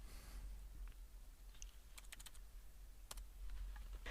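Typing on a computer keyboard, a few quick light key clicks in short bursts over a low steady hum, close and quiet with no talk.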